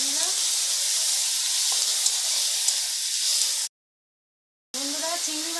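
Ginger-garlic paste and onion paste hiss and sizzle steadily in a hot pan as they are stir-fried; the frying noise cuts out briefly and then returns with a voice speaking over it.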